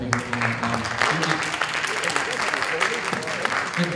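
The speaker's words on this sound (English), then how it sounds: "You can applaud." An audience applauds at a school band concert, a dense steady patter of many hands filling the room throughout, with talk and other sounds mixed in underneath.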